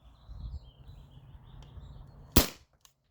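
A modded T4E HDP50 CO2 launcher on a 20 oz tank fires a single sharp, loud crack near the end, with a faint trailing click, over quiet outdoor background with birds chirping.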